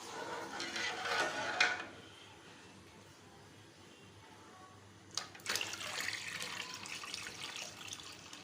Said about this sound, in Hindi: मुझे कम लग रहा था पानी तो मैं 1 जग और शामिल कर रही हूँ इसमें।